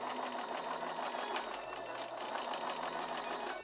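A sewing machine quilting calico in straight lines, a steady close mechanical whirr with a fast regular stitching rhythm throughout, no voices.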